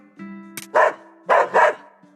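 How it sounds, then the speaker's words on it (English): A spirited dog in the mobile video game Metal Slug: Awakening barks three times in quick, sharp bursts, the second and third close together, over a steady musical game background. "My, what a spirited dog."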